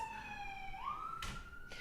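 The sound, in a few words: emergency vehicle sirens passing outside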